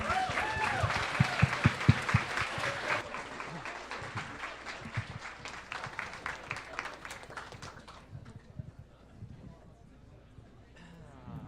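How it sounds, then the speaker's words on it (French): An audience at a quantum-themed party event claps steadily, the applause fading over the final seconds with a few scattered claps at the end, while voices talk over the start. "Vous pouvez l'applaudir, s'il vous plaît."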